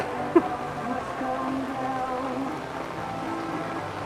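Rain falling outdoors in a city, a steady, soft patter on surfaces throughout, with one brief sharp knock near the start and faint murmuring in the background.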